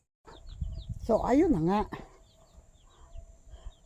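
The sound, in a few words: mother hen with chicks clucking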